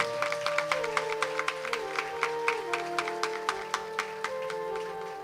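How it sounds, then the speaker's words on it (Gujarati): An audience at a Gujarati religious discourse claps together in a steady beat of crisp hand claps, moderately loud and evenly spaced, over a sustained musical drone. "આપણા ગૌરાંગ સાઉન્ડવાળા માટે જબરદસ્ત તાળીઓ વગાડે"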